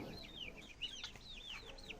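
Chicks and ducklings in a poultry yard give a series of thin, high peeping calls, rising and falling in quick succession, faint and fairly close, with no one talking.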